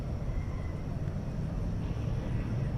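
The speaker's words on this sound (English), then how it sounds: "American Flight 790 going to Colorado Springs, a 737-800 is now approaching the takeoff position" A Boeing 737-800 jet taxiing toward the takeoff position at a night airport, heard as a steady low engine rumble with a faint high whine, moderately distant and unbroken.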